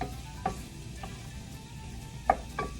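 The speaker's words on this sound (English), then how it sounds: "So we're gonna saute this for a couple of minutes" Porcini mushrooms sauté in a pan with a low, steady sizzle, punctuated by a few distinct clinks and scrapes of a utensil stirring them.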